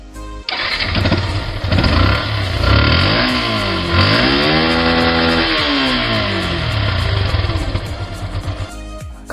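A motorcycle engine runs loud and close, starting with a rough idle and then revving up and back down in a smooth rising and falling sweep before settling again.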